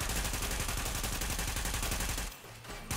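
Sustained automatic gunfire from The Division shooter game, a rapid, loud, dense burst of shots fired in an underground setting, cutting out briefly near the end before resuming.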